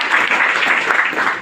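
A seminar audience breaks into applause for Rameshwar, a short burst of dense, steady clapping from a roomful of people.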